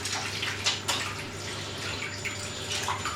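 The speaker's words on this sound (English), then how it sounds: "I'm just going to wash my hands because I've been in the freezer" Tap water runs steadily while hands are washed at a kitchen sink, a continuous close splashing wash with brief louder splashes and no voices.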